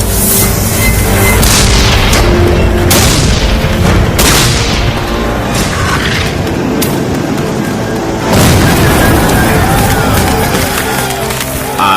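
Civil War cannon fire as gunpowder bags explode, a series of heavy booms and sharp blasts with rumbling decay, loud and close amid a dense battle din.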